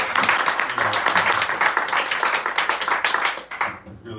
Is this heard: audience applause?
yes